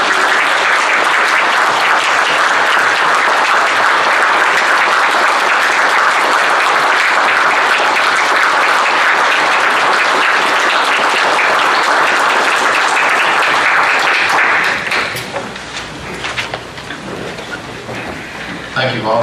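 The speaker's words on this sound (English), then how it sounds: "I'd like to give him a round of applause." Loud, sustained applause fills the room at a county commission meeting in Coffee County, Tennessee, a dense clapping wash lasting about fifteen seconds before it fades into murmuring and a voice speaking.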